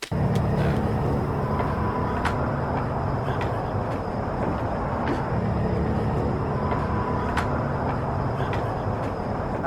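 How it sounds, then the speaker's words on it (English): Distant cars pass in a dull, continuous low rumble that swells faintly, with occasional sharp clicks and taps over a steady outdoor background. "Of course, there are cars driving by in the distance"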